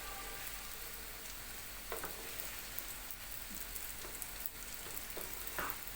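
A steady, close sizzling crackle fills the clip, with occasional scraping stirs as rice toasts in butter in a hot pot.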